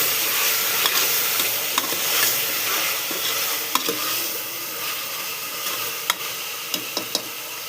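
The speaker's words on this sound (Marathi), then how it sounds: "हे असंच थोडं परतू द्यायचं." Salt and turmeric are stirred and sautéed in a pan over steady frying sizzle. A spoon scrapes and clicks against the pan in scattered strokes. Close-up, continuous, with no talk.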